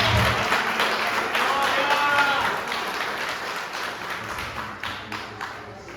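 A church congregation applauding as the preacher is welcomed during a missions service, a loud, dense burst of clapping that gradually thins and fades, with a few voices mixed in underneath.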